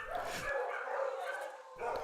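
Dogs at an animal shelter bark and yip in a few short bursts at the start and end, faint and somewhat distant, with a murmur of background noise in between.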